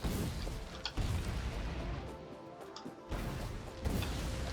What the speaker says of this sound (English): You can see why it's nice to get that explosion upgrade, so that one grenade removes trees.